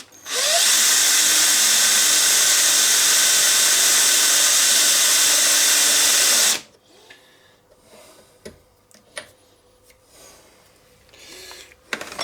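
A machine line-boring the swingarm spindle bore of a Suzuki GSXR1100 motorcycle frame runs as a loud, steady, high-pitched whine for about six seconds, then cuts off, leaving quiet clinks and handling noises.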